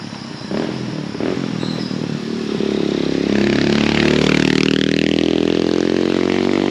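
A motorbike approaches and roars past on a street in the Philippines, its engine rising in pitch and loudness, then holding a strong steady drone as it passes nearby.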